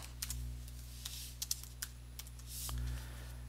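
A time is typed on a computer keyboard, a handful of distinct, close key taps spaced irregularly over a low steady electrical hum, with no talk.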